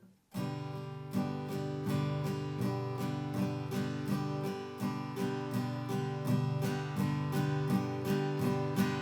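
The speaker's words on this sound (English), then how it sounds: "So that is a very, very common strumming pattern" An acoustic guitar strums a steady, even down-up pattern of eighth notes, each stroke crisp and regular, played close and alone for several bars.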